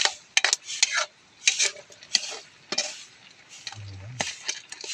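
Spoon stirring food in a metal cooking pot, a series of scraping and clinking strokes at close range with brief pauses between them.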